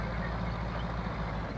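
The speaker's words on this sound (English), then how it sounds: "Just gonna let the truck roll." A truck rolls along in the video game Wobbly Life, a steady low engine rumble with a faint repeating reversing-style beep over it, close and continuous, with no talk.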